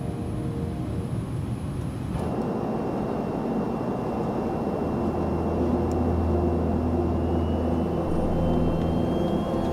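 Airliner in flight heard from inside the cabin on approach while banking, a steady broadband engine and airflow rumble with a low tonal drone that deepens after the first couple of seconds, continuous and fairly loud throughout, with no talking.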